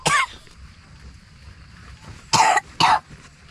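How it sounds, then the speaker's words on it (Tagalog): Three separate coughs ring out close and loud during a rainy morning of car camping, one at the start and two more in a quick pair near the end, with quiet background hum between them. "Ubo."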